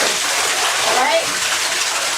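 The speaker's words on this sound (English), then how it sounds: "This is how you rinse the tub out." Water gushes loudly and continuously into a bathtub as it is rinsed out, a close, steady rushing splash with a voice talking faintly underneath.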